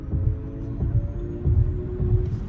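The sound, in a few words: electric car synthetic driving sound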